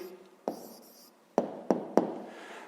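A hand writes an answer, likely on paper, heard as a few sharp taps and short strokes spaced irregularly, close and quiet against a silent background.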